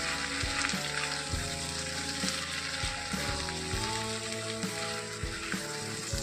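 Prawns fry in oil with coconut and chili paste, giving a steady close sizzle broken by occasional stirring scrapes, with a faint tonal hum underneath.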